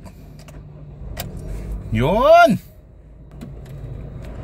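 Honda Civic FD with a hard-starting, low-fuel-pressure fault cranks briefly and catches, its engine sweeping up in a short rev and settling back within about half a second, close by, with a voice speaking nearby.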